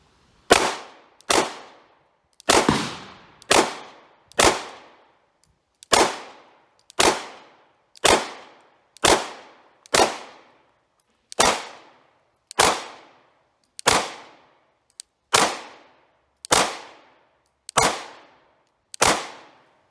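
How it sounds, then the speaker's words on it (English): Glock 45 pistol fired at an outdoor range during target shooting: about sixteen sharp, loud shots at a steady medium pace, each with a short decaying report and no talking. "I'm just gonna do a medium rate of fire, kind of just target shooting, not a defensive scenario."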